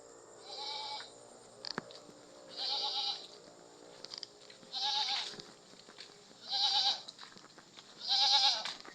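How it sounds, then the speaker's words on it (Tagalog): A pet goat at a small farmhouse bleats five times in a slow, even series, each call a nasal, wavering cry of about a second, moderately close over a quiet background. "Yan ating kambing na alaga. Gusto nang magkawala."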